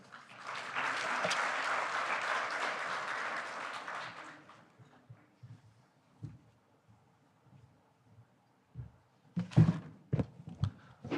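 Audience applause at the opening ceremony of an ILO regional seminar for labour-based practitioners, a dense sustained round of clapping lasting about four seconds, then fading into scattered thumps and brief noises.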